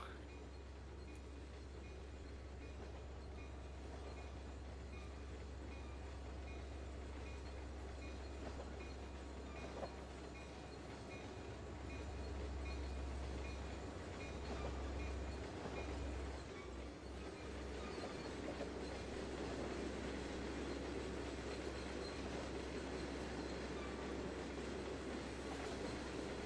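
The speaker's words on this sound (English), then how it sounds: "So Eric, from Zukol, discounting the Conrail train, it probably takes about 45, 48 minutes to get from Zukol to Camino with a freight train" A Conrail freight train rolls past at night in New Jersey, a steady low rumble with faint clattering of railcars and wheels, distant and continuous for the whole stretch.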